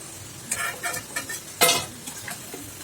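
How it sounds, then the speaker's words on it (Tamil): Oil sizzles and crackles in a heavy kadai over a medium flame as food fries until crisp, with soft stirring scrapes and a louder sputtering burst midway, close and steady with no talking. "நல்லா மீடியமான ஒரு தீயில் வச்சு பொறிச்சு எடுத்தீங்கன்னா நல்லா கிறிஸ்பியாக இருக்கும்"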